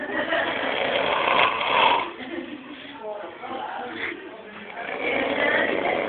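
A woman snoring in long rough breaths through a muffled, low-quality recording while other people talk over it nearby.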